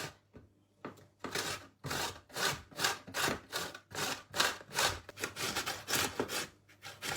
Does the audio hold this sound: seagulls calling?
no